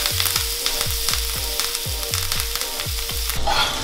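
Lamb loin frying with butter and thyme sprigs, a loud close sizzle with regular quick thumps like spooning or basting, about ten in a row before a brief louder hiss at the end.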